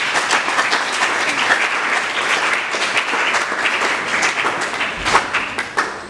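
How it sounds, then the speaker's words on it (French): Audience at an International Day of the Girl ceremony in Bandundu breaks into loud, sustained applause and cheering, dense clapping with a few sharper claps standing out near the end. "je souhaiterais qu'on puisse les manifester par les acclamations"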